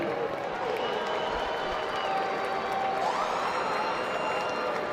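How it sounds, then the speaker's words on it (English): Crowd applause and cheering for two boxers in the ring after an eight-round championship fight, a continuous roar of noise with a rising siren-like tone or whistle cutting through partway, and a voice faintly underneath. "please put a big round of applause together for both of the fighters in this ring"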